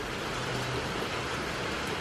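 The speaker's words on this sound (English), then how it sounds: "It's raining again." Rain falls outside as a steady, dense hiss of drops that stays even and fairly loud from start to finish, with no voices.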